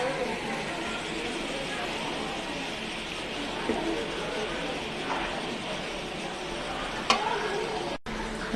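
Spices fry with tomato, chili and onion in a pan, a steady sizzle with soft stirring scrapes and one brief clink, fairly loud and continuous, with no talk.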